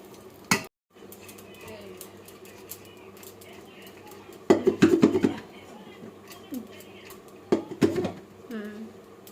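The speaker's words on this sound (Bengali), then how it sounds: "এই যে জিরা কিন্তু ভেজে যে মিক্সড করছে" A spoon scrapes and clinks against a pot as fried cumin is stirred into rice, a few sharp bursts over a soft steady background.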